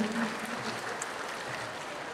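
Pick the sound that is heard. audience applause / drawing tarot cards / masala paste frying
audience applause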